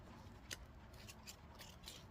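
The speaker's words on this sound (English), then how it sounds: "And then you just cut it. Just like this. With your scissors." Scissors snip through an adhesive strip for a DIY craft project, a few crisp, quiet cuts spaced apart with no talking.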